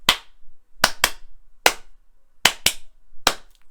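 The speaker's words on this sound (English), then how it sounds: "hand clapping, which, you know, is just brilliant and ridiculously hooky." Sharp, dry hand claps like those in the chorus of a pop song, seven crisp claps in an uneven rhythm, some in quick pairs, each separated by silence, with no music or voices.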